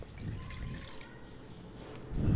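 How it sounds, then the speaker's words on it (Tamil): Coconut milk is poured into sautéed chicken in a cooking pot for coconut milk chicken biryani, producing a faint, soft liquid trickle and dripping, with a slightly louder splash at the end. "இப்போ இந்த தேங்காய் பாலை ஊற்ற போகிறோம்."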